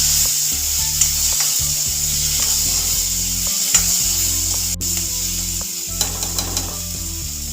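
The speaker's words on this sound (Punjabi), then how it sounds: "ਲੋ ਜੀ ਆਪਾਂ ਟਮਾਟਰ ਨੂੰ ਤੇ ਪਿਆਜ਼ ਨੂੰ ਹਲਕਾ ਭੁੰਨ ਲਾਂਗੇ" Tomatoes and onions lightly frying in a pan for macaroni pasta, a steady close sizzle with occasional stirring scrapes and soft knocks of a utensil against the pan, no talking.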